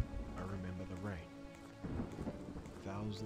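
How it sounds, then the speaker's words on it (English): Rain and thunder in a video game, a steady wash of rainfall with low rumbling under a speaking voice and music-like tones throughout. "I remember the rain."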